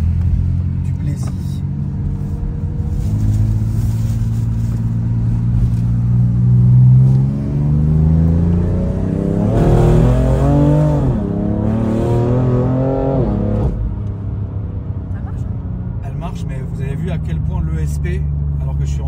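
A new car's engine revs up and down under steady road rumble, with a rising and falling note in the middle and small exhaust pops, while someone talks over it throughout.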